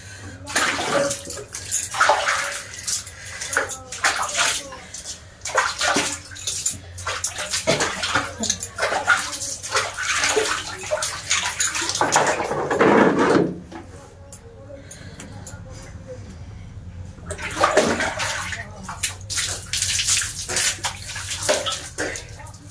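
Water splashes and pours in bouts during a bath in a home bathroom, close and loud, with brief pauses between, and a voice talks over parts of it.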